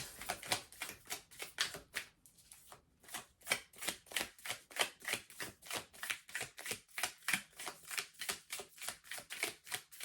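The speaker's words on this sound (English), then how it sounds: "And here we are, shuffling normally." Tarot cards are shuffled by hand in a quick, steady run of crisp riffling clicks and snaps, close and fairly quiet, with one short pause near the start before the rhythm resumes. No one speaks.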